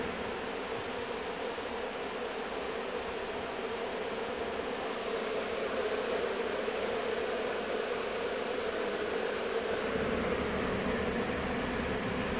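A dense, continuous hum of honeybees swarming at a hive during a removal, loud and close, a steady buzzing drone that thickens slightly near the end.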